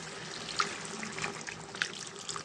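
Tamarind water trickles and splashes into a pan of fish curry with onion paste, a soft, thin pouring sound that runs steadily at close range with a couple of brief splashes.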